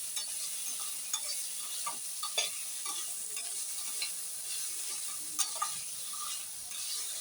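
Onions sauté in a pan toward golden brown for vegetable biryani, a continuous soft sizzle with repeated spatula scrapes and light clicks recurring every second or so, close and steady with no talking.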